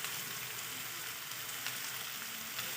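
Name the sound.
spice paste frying in a pan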